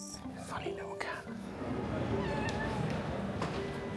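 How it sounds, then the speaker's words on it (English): A cat named Archie meows a few times, close by, mixed with quiet whispery voices and some background noise. "Funny little cat."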